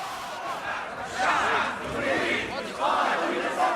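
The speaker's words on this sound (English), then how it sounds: "Suddenly, he is mobbed by an angry crowd, hounded out as a crony of Hosni Mubarak." An angry crowd mobs a journalist syndicate president in Egypt, a dense roar of shouting voices that swells loudly in repeated surges and stays near and continuous throughout.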